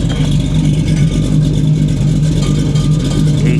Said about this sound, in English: let's take a quick listen to that exhaust.